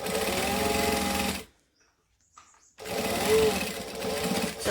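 A sewing machine runs close and loud, basting down the bottom edge of a pocket in two steady whirring bursts with a near-silent pause between them.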